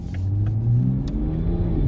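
A stock 2022 Toyota Supra revs and accelerates nearby, its engine giving a loud, steady, deep rumble that rises in pitch over two seconds.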